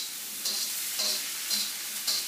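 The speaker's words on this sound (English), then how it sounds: "You hear it sizzling? That means it's doing its job." Food sizzles in a wok, a bright steady hiss broken by about four soft rhythmic swells as the pan is stirred or tossed, close and fairly quiet, no voices.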